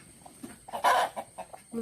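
Several close, short clucks from older hens in an uneven run, one louder squawk standing out in the middle.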